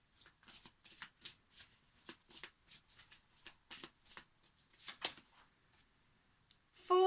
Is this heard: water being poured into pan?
no